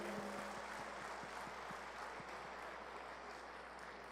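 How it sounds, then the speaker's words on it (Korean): Sustained audience applause fills a hall at a 30th-anniversary reunion of Korea University's 1985 entering class, dense and steady throughout with a few sharper claps standing out near the start. "큰 박수 한번 보내주시죠."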